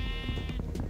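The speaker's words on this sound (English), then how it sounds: "There's a sheep here as well, so we got some mutton." A sheep bleats in Minecraft, one short wavering baa heard close, sitting on top of background game music.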